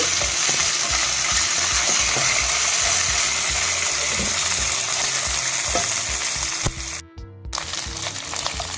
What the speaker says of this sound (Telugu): 2 ఎండుమిర్చి, ఒక రెమ్మ కరివేపాకు. ఇవన్నీ వేగిపోయాక